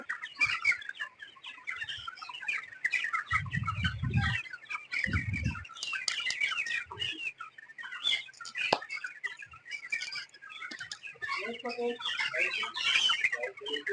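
Chickens on a poultry farm cluck and crow steadily throughout, with a rooster-like call and scattered chirps, while a few brief low thumps and faint voices surface in the background.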